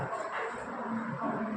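Tommy, a pet dog, gives a short burst of barking and yipping in a house, moderately faint and fairly close, with no other sounds standing out.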